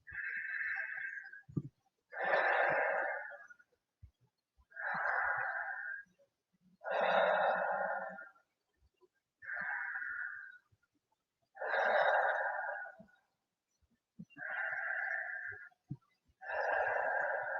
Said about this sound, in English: Breathing through your mouth or your nose if it's available.